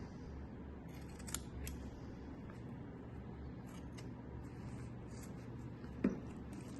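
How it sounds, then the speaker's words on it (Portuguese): Scissors snipping through a milk carton for a fabric-covered box project, with faint, close, intermittent cuts and soft crinkles over a low room hum, and one sharper snip near the end. "esse lado aqui, eu vou cortar a minha caixinha de leite já."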